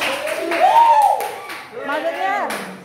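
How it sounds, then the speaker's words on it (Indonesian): A classroom group gives applause for group 5 after its presentation. Scattered clapping runs under a loud, animated voice, with cheering and a whoop toward the end. "Terima kasih, aplaus dulu dong"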